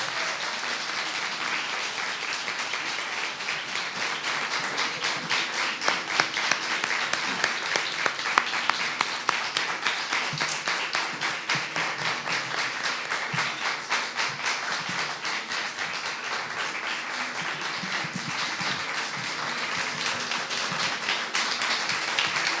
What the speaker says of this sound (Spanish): creo que el aplauso lo dice con todo su sonido y decibeles